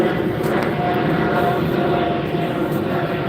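A fixed-wing airplane passes overhead near an airport, a steady, loud broadband engine roar that fills the whole stretch without a break, with no talk over it.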